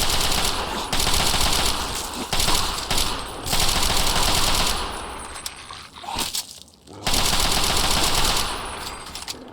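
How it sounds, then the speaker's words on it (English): Sustained bursts of machine gun fire in Fallout 3, loud and close, with rapid rattling volleys broken by short pauses. "it's kind of hard to miss when you've got a machine gun just going"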